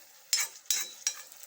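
Spices being stirred with taro leaves in a pan, heard as three distinct scraping strokes with brief sizzling bursts, close and fairly quiet, with no talk.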